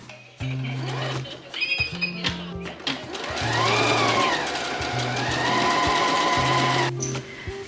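A sewing machine stitches a pinned seam on fabric in several short bursts and one longer steady run, close and fairly loud, with brief pauses between runs.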